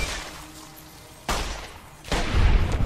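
Pistol gunfire in the video game Fallout New Vegas, two sharp, loud shots about a second apart with booming tails, the second followed by a rumbling burst, no talking.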